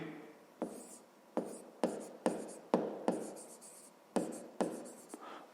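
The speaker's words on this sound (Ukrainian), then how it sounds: "Давайте так і запишемо." A pen writes on paper during a fifth-grade math exercise: a quick series of close, scratchy strokes and taps with short pauses between, and no voices.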